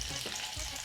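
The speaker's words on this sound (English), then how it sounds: "The sizzle that I love to hear." Steady crackling sizzle of chicken frying in hot oil in a pot, close and continuous, with a faint stirring scrape now and then.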